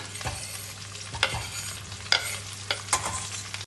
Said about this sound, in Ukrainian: Тепер сюди до реберець я додаю картоплю. Сюди тепер додаю цибульку.